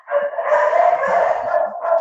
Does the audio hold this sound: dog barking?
yes